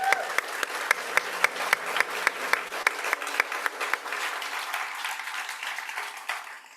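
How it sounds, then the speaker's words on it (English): An audience at a small business pitch competition claps, a fairly faint, even patter with a few sharp, distinct claps standing out, slowly tapering over several seconds. "And so a big round of applause."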